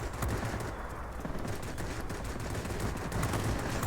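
Rapid, continuous automatic fire from the 37mm nose cannon of an I-250 fighter in World of Warplanes, a dense, loud, sustained rattle of shots over engine noise, with no talking.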